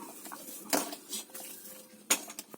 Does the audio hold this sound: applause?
no